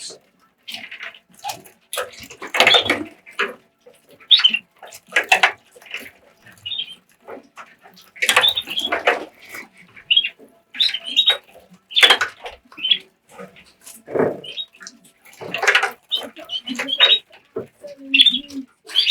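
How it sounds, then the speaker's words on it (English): Small birds splash and flutter in water in repeated bursts, with chirps and faint speech mixed in, close by. "watching your birds when they're bathing"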